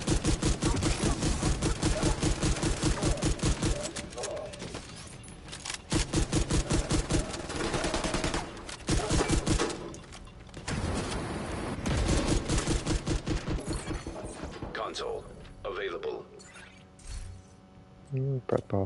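Rapid shotgun fire in The Division 2 during a Descent mode fight, dense repeated loud blasts in quick bursts over busy game noise, with someone talking throughout.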